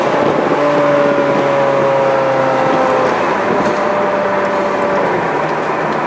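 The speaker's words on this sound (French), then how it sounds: "On a ce bruit magique de la voiture, vraiment" A Ferrari F430 Scuderia drives a winding road, its engine a loud steady drone with shifting harmonic tones under heavy wind rush, heard from inside the car without speech.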